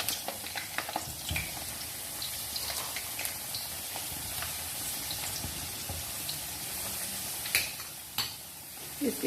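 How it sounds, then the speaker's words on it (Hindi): Potatoes fry in oil in a pan over a medium flame for mutton biryani, a soft, steady sizzle with occasional clinks and scrapes of stirring, fairly faint and without speech. "ये डालेंगे और इनको करेंगे इसके अंदर लाइट गोल्डन कलर तक फ्राई करेंगे"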